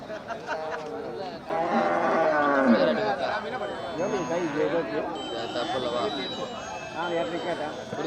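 Cattle low and moo amid a crowded, noisy livestock market, with overlapping chatter and voices throughout the scene.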